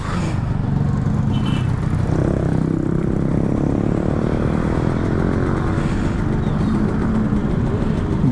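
An old Kawasaki Ninja RR 150 two-stroke motorcycle revving hard along a long road, a loud, close, raspy engine note rising and falling with wind noise throughout.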